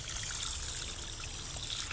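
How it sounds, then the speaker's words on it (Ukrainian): Water spills and trickles in a steady, close wash, a continuous bubbling dribble that runs unbroken for the whole two seconds with no voices over it. "тільки тут вода трошки розливається"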